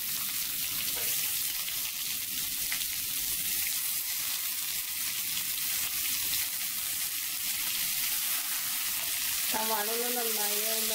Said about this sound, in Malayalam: സവാള ഒന്ന് നന്നായി ഒന്ന് ബ്രൗൺ കളർ ആവുന്നവരെ ഒന്ന് വഴിക്കെടുക്കാം